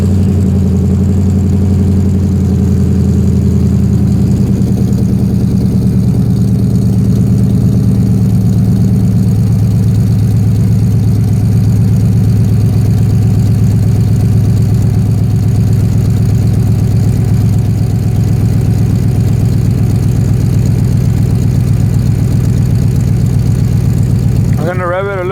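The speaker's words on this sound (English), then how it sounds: "This is a cold start." A 1997 Chevrolet K1500 truck with a Magnaflow muffler (2 in, 2 out) idles after a cold start, its steady, loud, low rumble running unbroken close to the mic for the whole stretch.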